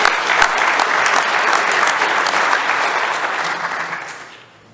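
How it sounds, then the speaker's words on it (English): A conference audience at a security talk gives dense, full applause for an incoming speaker, sustained loudly, then tapering off and fading out toward the end. "please join me in a round of applause to welcome Jerome"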